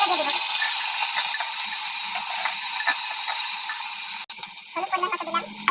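Potatoes go into hot spices with onion, garlic, green chili, and ginger, garlic, and cumin pastes for khichuri, a bright steady sizzle with clicks of stirring, then a sharp break and bubbling frying resumes.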